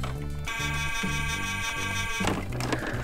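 A battery-powered toy back-loading garbage truck sounds its horn, a loud, steady electronic beeping tone that changes pitch in short repeating steps for about three seconds, with no voices.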